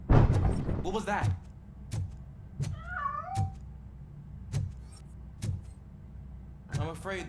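A cat meows a couple of times in Robocop Rogue City, short wavering cries amid sharp clicks and thumps, with someone talking before and after.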